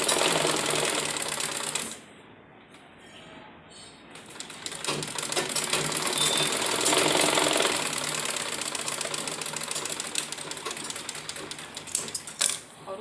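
A sewing machine stitches baby dress fabric in a steady rapid whirring chatter, pausing briefly near the start before resuming and running continuously, close by and loud.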